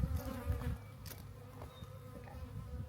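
Many bees swarming close by, a dense steady buzzing drone with individual insects passing near, fairly quiet and without talk.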